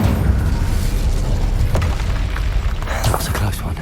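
Confringo and Incendio spells blasting in Hogwarts Legacy, a dense, loud run of booming bursts and crackling impacts over a constant low rumble, with sharper pops near the middle and the end.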